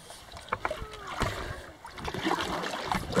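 Paddles dip and splash as a double kayak moves through water, soft irregular sloshes and drips close by, with a person talking over it.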